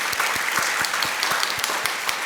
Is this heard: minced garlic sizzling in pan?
no